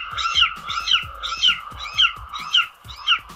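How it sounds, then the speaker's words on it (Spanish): A chimango caracara gives a run of six evenly spaced, loud harsh calls, each a drawn-out mournful squawk, repeating at a steady rhythm with nothing else heard. "Chimangos son aves que tienen un largo y lastimero sonido"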